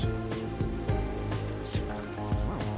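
Steady rain falls throughout a scene in the video game Master Detective Archives: Rain Code, a constant wash under periodic low game music tones, with no talk.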